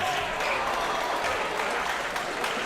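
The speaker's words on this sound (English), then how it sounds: "Got some clapping going on." Audience applause at a teen tournament playoff match, a dense, steady patter of many hands clapping from a crowd gathered near a stage, sustained throughout.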